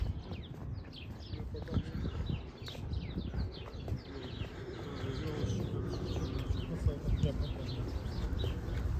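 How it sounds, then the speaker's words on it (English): Small birds chirping and tweeting outdoors on a city walk from East York to Danforth Village, Toronto, against a busy background of rumbling traffic or crowd noise, with a person talking at times. "Birds are chirping."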